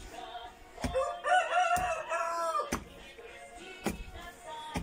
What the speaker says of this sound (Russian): Петушки поют, музыка играет.